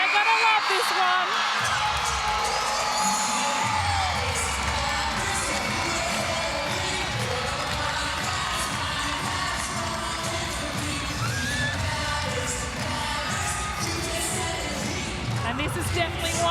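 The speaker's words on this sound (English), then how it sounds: "The crowd. Listen to them." A large crowd at a Suncorp Super Netball match between the Mavericks and the Swifts cheers and shouts loudly and without a break, with whoops and high voices rising, while a commentator talks over it.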